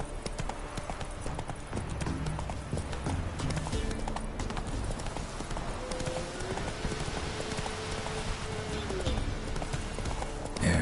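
Horse hooves clip-clop steadily in The Witcher 3 while the horse is ridden through an outdoor game scene. The regular hoofbeats stay moderately close and faint against ambient game sound, with a brief whinny-like tone partway through.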